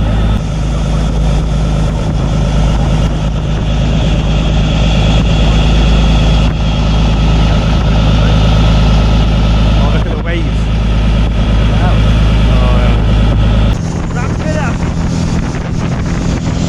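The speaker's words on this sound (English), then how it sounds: "it's time for some speedboat fun" A speedboat engine rumbles steadily at low idle in Padstow, Cornwall, under gusty wind buffeting the microphone, with people talking briefly over it.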